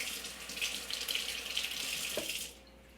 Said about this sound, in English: I washed my hands after doing the egg